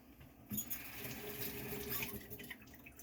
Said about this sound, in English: And just rinse my can because I can